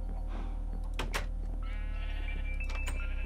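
Sheep in Minecraft's Sky Factory modpack bleat over a steady low game hum, with bursts of sound and a thin sustained tone rising later; no one speaks.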